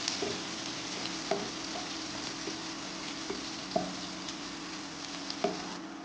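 Chopped onions sizzling in hot oil with mustard seeds for Kerala-style fish curry, a steady soft crackle with light stirring scrapes and occasional sharp pops recurring throughout.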